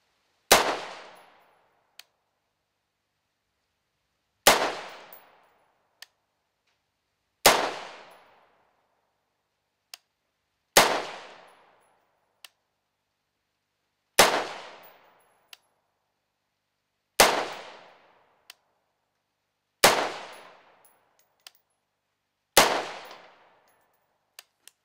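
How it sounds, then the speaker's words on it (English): Rifle shots fired from a bench with a Magpod rest outdoors, eight sharp loud cracks spaced about three seconds apart, each decaying quickly, with faint metallic clicks between shots and no talking. "So I just shot from my cheek with the Magpod on the bench"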